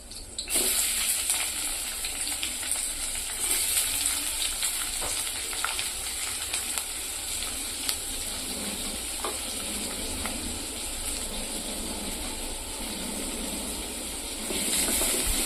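Onions fry with green chillies in a pan, giving a steady, loud sizzle that holds throughout, with small crackles and stirring scrapes breaking through the hiss.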